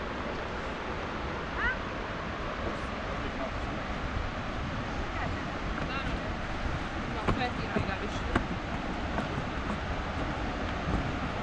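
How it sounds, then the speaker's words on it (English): The Štrbački buk waterfall rushes as a dense, steady roar of falling water that fills the scene without a break, with a voice talking faintly beneath it. "This is beginning of the waterfall."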